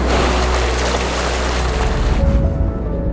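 A big wave washes over a car crossing a tidal estuary that has risen into a full river near Costa Rica's Guanacaste beaches. Loud, continuous rushing and churning water with wind buffeting fills the scene, easing slightly near the end.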